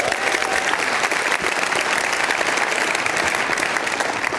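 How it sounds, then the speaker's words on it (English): A full room applauds during a real estate keynote event, loud continuous dense clapping holding steady for several seconds with no talk on top. "let's give them one big more round of applause"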